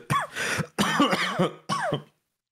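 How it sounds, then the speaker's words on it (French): A small cough and throat clearing from a game-show host, three short close bursts in a row with brief gaps, heard alone without other talk. "Avec petite toux là, on va essayer de répondre du mieux que je peux."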